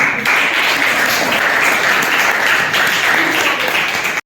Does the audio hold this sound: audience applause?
yes